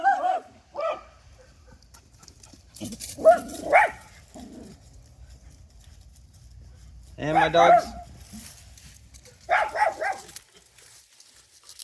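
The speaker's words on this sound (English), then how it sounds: "my dogs are chasing a cat. So just ignore all the barking." Pet dogs chasing a cat bark in short bursts of several loud, close barks, separated by quiet stretches with faint background hum, and someone speaks briefly.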